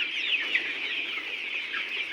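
A flock of layer pullet hens on a farm clucks and chatters continuously at close range while being fed, a dense, busy layer of bird calls with no talking.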